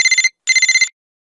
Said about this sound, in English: A phone sounds like this.